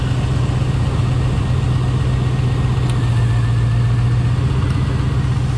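A Chevy Tahoe engine idles steadily up close with one cylinder's spark disconnected, a continuous low rumble with a slightly uneven, loping pulse throughout and no voices.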